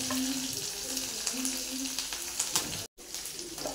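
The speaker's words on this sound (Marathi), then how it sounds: "तेलामध्ये अगोदर आपण मिरची भाजून घेऊया।" Green chillies frying in hot oil for a spicy zunka, a steady close sizzle with light crackles running throughout and a brief cut of silence near the end.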